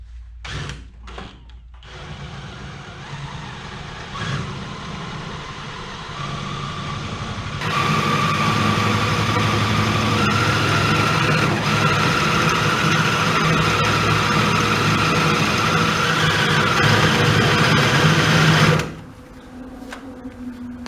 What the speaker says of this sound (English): let's see if we can bore that out to a bigger hole now.